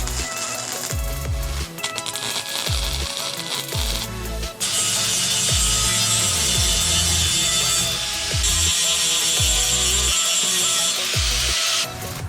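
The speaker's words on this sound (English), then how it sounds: "Just need to fill in some holes and then we'll grind it." A grinder works down welds on a custom car grille, a loud, harsh, steady whine that holds for several seconds after a stretch of rattling, clanking tool and metal noise.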